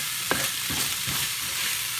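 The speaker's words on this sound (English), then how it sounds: "I just want to mix this up" Seasoned taco meat stirred in a frying pan, a steady broadband sizzle with a few soft scraping strokes of the spoon, close and continuous, no voices.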